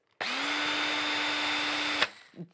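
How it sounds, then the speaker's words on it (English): A power drill used for DIY holiday ornament crafts whirs at a steady pitch for about two seconds and then stops, close and alone. "Just the sound of that drill makes me extremely happy."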